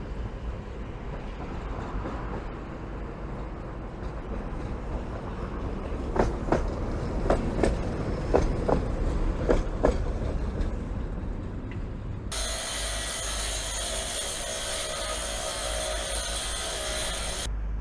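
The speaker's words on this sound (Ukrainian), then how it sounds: "Носяться ну, дикі трамвайчики." Trams rattle along the street beside a Kyiv underpass under construction, with a steady rumbling roll and a run of sharp clacks and squeals from the wheels in the middle, then a bright broadband hiss near the end.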